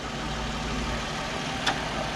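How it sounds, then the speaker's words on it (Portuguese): A Toyota Camry's six-cylinder engine idling quietly with the hood open, a soft, even low hum that holds steady with a brief faint click near the end, no speech. "Motor silencioso."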